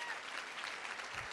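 An audience at a leadership event claps for Jenny Fleiss, a brief burst of steady, dense applause from a full room, with no voices standing out.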